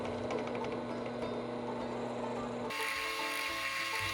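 A small drill bores holes across the back of knife handle scales, a steady high mechanical whine that shifts pitch partway through as the bit bites into the material.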